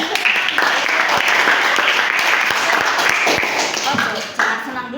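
Classroom of students clapping after a good answer, a lively burst of applause with sharp individual claps standing out near the end, while voices chatter underneath.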